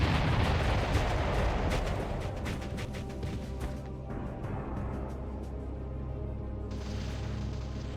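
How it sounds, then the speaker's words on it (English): Artillery bombardment in the real-time strategy game Ground Control, a dense, continuous roar of rumbling blasts and crackling explosions, loud and sustained, with rapid impacts piling up early before settling into a steady heavy rumble. "Yes, Deacon, bombarding."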